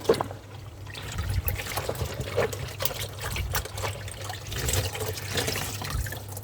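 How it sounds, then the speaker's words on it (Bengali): Lukewarm water pours and trickles steadily while a fridge is rinsed during cleaning, a continuous close splashing flow with a low hum beneath, no voices. "আরেকবার কিন্তু আমি কুসুম কুসুম জল দিয়ে আরেকবার কোনো কিছু ছাড়াই আমি ধুয়ে নেব"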